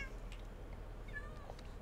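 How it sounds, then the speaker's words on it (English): Farm cats in Minecraft give a couple of short, faint meows over a low background hum, with no one talking. "Cats. Freaking cats everywhere around here. Farm cats. Meow."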